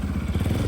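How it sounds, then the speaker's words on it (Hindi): A motorcycle on an evening street in Istanbul rumbles loud and close with a steady low engine drone, brief and continuous, with no clear speech over it. "मोटरसाइकिल वाला आ गया देखो लिफ्ट मांग लेने"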